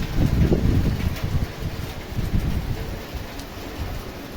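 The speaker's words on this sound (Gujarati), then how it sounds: "વરસાદ આવી રહ્યો છે" Steady rain falling, a dense wash of patter with a low rumbling undertone, heavier at first and easing slightly toward the end.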